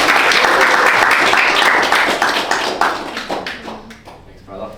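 Audience applause for a guest speaker at a business gathering, loud at first, then thinning into scattered individual claps that fade out.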